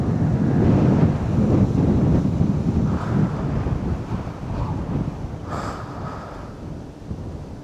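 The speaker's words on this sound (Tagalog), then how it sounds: "Lakas ng hangin, nararamdaman ko dito sa kawayan, nagbabibrate." Strong wind at Pililla wind farm buffets the microphone in loud, rushing gusts that gradually ease off, with a faint rumble like surf beneath, and bamboo vibrating.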